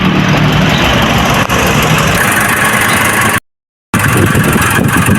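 A Nissan N350 car engine idles steadily at close range during an oil change, a continuous rumbling drone with a brief dropout near the end before it resumes.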